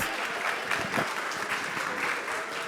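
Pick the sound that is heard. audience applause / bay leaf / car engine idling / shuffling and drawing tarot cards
audience applause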